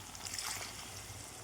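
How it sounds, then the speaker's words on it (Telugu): Water poured into a pot of chicken curry until the pieces are covered, a short close trickling gush with no talk. "వాటర్ అయితే పోసుకుందామండి."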